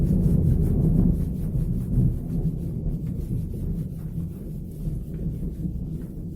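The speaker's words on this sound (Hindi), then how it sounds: "जब मैं ये वीडियो रिकॉर्डिंग कर रहा हूं तो बादल गरज रहे हैं" Thunder from storm clouds rolls as a low, continuous rumble that swells early and then settles into a steady, moderately loud drone, with no voices.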